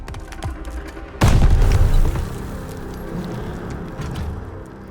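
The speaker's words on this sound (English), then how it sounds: "Sten, Grenade! Get down!" A grenade blast in the Call of Duty Vanguard campaign lands as one sudden loud boom with a roaring low rumble that lasts about a second, then gives way to lingering battle ambience and scattered gunfire.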